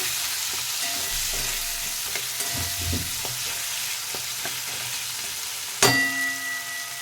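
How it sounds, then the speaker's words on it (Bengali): Turmeric, chili and coriander powder are stirred into onion, tomato and potato in a frying pan for radish-greens chorchori: soft scraping and faint sizzle, then one sharp metallic clang near the end. "সবগুলো মশলাগুলো নাড়িয়ে নেব"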